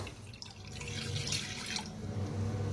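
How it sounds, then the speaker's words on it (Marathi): Water pours and splashes into a kadhai on a gas stove, a steady close trickle with a soft low hum beneath, no talking. "गॅसवर ठेवलेली आहे कढाई, पाणी ओतूया"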